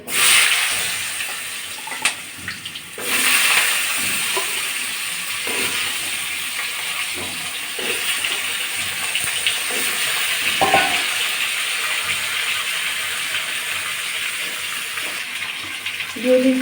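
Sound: cardamom and cloves sizzling in hot oil

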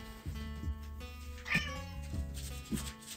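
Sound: cat meowing

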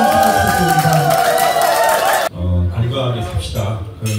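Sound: audience applause and cheering for singer's debut

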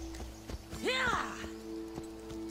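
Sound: horse hooves walking, from a video game

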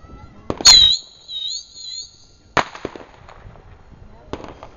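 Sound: close range bottle rocket firework

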